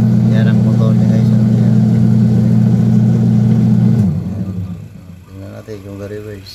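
Motor of an old junk-shop washing machine under repair runs with a loud, steady low hum that winds down and stops, followed by someone speaking.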